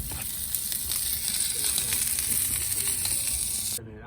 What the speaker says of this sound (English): I'm searing the meat